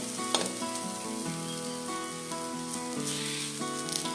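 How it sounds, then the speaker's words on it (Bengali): Potato and bitter gourd frying in oil, a steady close sizzle with faint stirring clinks, no voices. "দেখো আলু করলা ভাজা যাই হয়ে এসছে"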